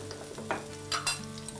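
Prawns with minced ginger, plenty of chilies and coriander leaves stir-fry over a high flame, a steady sizzle broken by several scraping stirs of the spatula, close and moderately loud.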